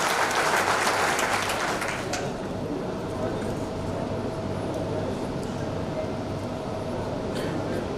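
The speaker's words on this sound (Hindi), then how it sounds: "जोरदार तालियां बजाएं" Loud applause from a crowd at a political rally, dense clapping that is strongest at first and then settles into a steady, sustained roar.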